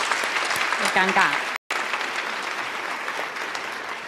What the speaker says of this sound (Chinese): 来大家掌声欢迎